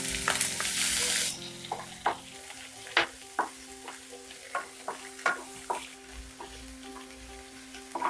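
Chopped onions dropped into hot oil with golden-fried garlic for dal tadka over high heat, opening with a loud sizzling burst that settles into a quieter fry, with spoon stirs and scrapes ticking regularly throughout.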